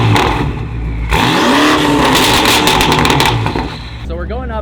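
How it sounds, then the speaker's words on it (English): A BMW M8 Competition engine revs loudly and steadily, its pitch rising and falling, with people talking nearby over the roar. "New M8 competition, that thing sounds absolutely ridiculous."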